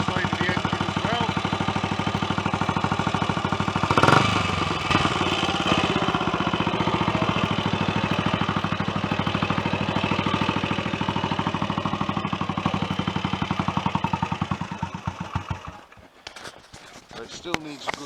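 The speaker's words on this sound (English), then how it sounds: "I can tell already that this engine's got a fair bit of go in it." A serviced Royal Enfield 250 single-cylinder motorcycle engine runs steadily at idle for about fifteen seconds, a loud continuous rhythmic chugging close by, then it cuts out near the end, leaving a quieter tail.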